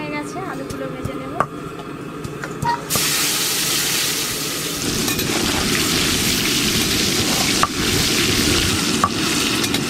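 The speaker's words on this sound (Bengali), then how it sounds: "তেল খুব ভালো করে গরম হয়ে গেছে, আলুগুলো ভেজে নেব।" Potatoes fry in well-heated oil for a chicken curry, a steady loud sizzle that swells partway through, with occasional stirring clinks and no one talking.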